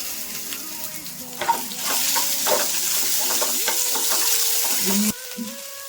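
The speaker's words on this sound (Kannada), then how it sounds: "ಈರುಳ್ಳಿ ಫ್ರೈ ಆಗಿದೆ." Sliced onions frying for avarekalu sambar, a steady sizzle and crackle in the pan broken by stirring scrapes, with a brief splash of running tap water near the end.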